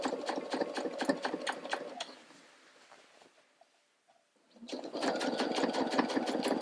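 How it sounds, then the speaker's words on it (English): A sewing machine stitches through thick denim jeans fabric in rapid, steady bursts, pauses for a couple of seconds, then starts running again at full speed. "you're going to be sewing through a lot of fabric, and your sewing machine might not like that very much"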